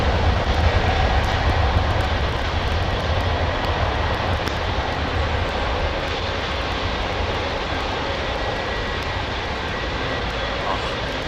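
Airliner engines roar steadily on Heathrow runway 27L, a loud continuous rumble with a broadband rush that holds for several seconds and eases slightly toward the end.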